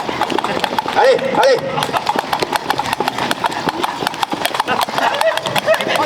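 Steady clip-clop of horse hooves at a brisk pace, with a voice calling out over it and a brief whinny.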